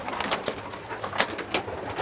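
Racing pigeons at their loft on race day, with soft cooing and fluttering calls from several birds close by, repeating irregularly over steady background ambience.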